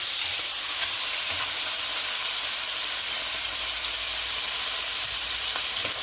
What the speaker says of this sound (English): You want to fry the saltfish until it gets golden brown